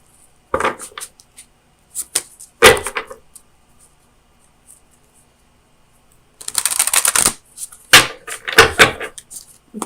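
Oracle of Visions cards shuffled and drawn from the deck: scattered close riffles and slaps in uneven bursts, with quiet gaps between them and a longer dense shuffle near the end, no voices.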